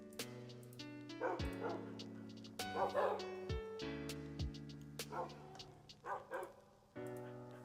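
Several Minecraft dogs, tamed wolves, bark and yip in quick bursts alongside whimpering, layered synthetic game barks repeating over several seconds without talk.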